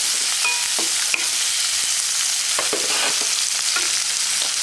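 Turmeric powder is stirred into masala frying in a pan, giving a loud, close, continuous sizzle with occasional spoon scrapes and clinks and no voices.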